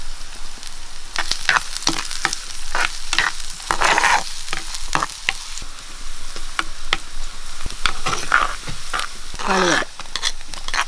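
Onion fries in coconut oil with a close sizzle broken by repeated stirring scrapes and clinks, the bursts of noise rising and falling. A voice is faintly present.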